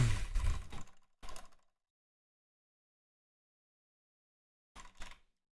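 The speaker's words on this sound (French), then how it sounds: "Désolé pour le bruit de clavier." Keyboard typing from a computer during a French-speaking gaming session, a short burst of keystrokes near the mic, a brief second flurry, then silence and another quick cluster of clicks near the end.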